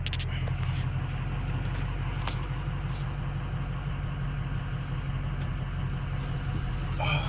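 A Ford F250 with the 6.0 engine rolls around the block, its steady diesel drone and road rumble continuous and fairly close, with a few faint clicks and knocks from the cab.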